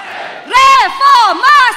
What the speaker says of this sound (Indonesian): mari kita gemakan dewan ini dengan laungan Reformasi!